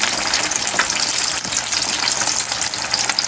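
Steady, close sizzling of food frying in a pan, a dense crackling hiss that continues without a break.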